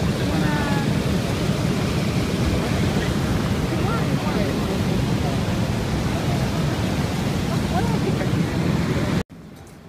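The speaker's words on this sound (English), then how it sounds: "Can you hear the water?" Broad, steady rushing of water waves fills the clip, loud and close with wind buffeting, cutting off abruptly near the end.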